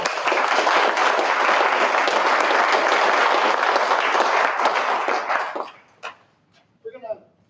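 An audience at a community forum in Fort Jones, California gives the speakers a loud, dense round of applause that lasts about five seconds and then tapers off, leaving a few scattered claps and a brief voice.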